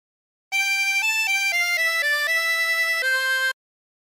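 Tremolo harmonica with 24 holes playing a short phrase of La Cucaracha, a bright reedy run of about nine distinct notes in quick rhythm, heard alone with silence before and after.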